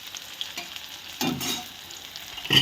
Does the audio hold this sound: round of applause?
no